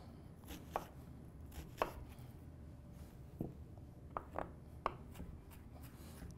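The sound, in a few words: rough chopping of onions for salsa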